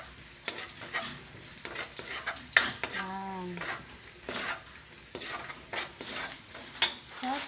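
Garlic and bouillon cubes sizzle steadily in oil in a pan for a Filipino sopas, with a spoon stirring and scraping through it and occasional clinks of utensil against the pan.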